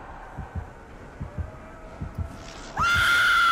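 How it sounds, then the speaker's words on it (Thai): A character screams loudly near the end of a Dead by Daylight match, cutting in over rhythmic heartbeat-like throbbing and a low ambient hum. "โอ้ยไปกรี๊ดให้เขาได้ยิน"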